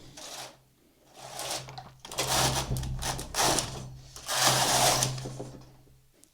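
A knitting machine carriage is pushed across the needle bed for two rows of inlay knitting. It makes several loud, close, rattling mechanical sweeps, each a second or so long, separated by short pauses.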